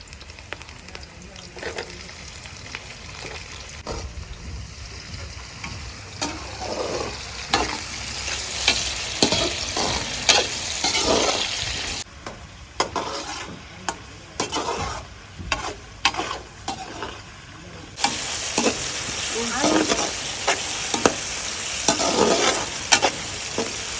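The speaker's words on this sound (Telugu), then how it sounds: "ఉల్లిపాయలు మంచిగా వేగినాయి అన్ని పచ్చిమిరపకాయలు కూడా వేగినాయి ఇప్పుడు టమాటా యాడ్ చేస్తున్నాను" Tomatoes added to onions and green chillies frying in a pan, with a continuous sizzle and frequent scraping stir strokes that grow louder and denser as the hiss intensifies, close by and without talk.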